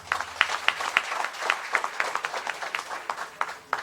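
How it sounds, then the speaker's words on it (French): Audience applause at a public conference on women's and youth entrepreneurship: a few minutes' worth of scattered hand claps compressed into a short, moderately loud burst of clapping from a crowd, with no talking. "Je vais vous demander de l'applaudir, s'il vous plaît."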